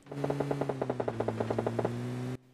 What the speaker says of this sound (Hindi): सामने की तरफ से फायरिंग के साउंड आ रहे थे शायद दो स्कॉट की वहाँ पर लड़ाई चल रही थी